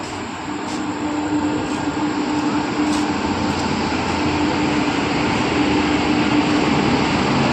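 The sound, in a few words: train arriving at station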